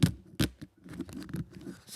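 Protective film being peeled off XReal Air 2 AR glasses, close-up crisp tearing and crackling bursts, with two sharp loud rips at the start followed by softer continuous crinkling peels.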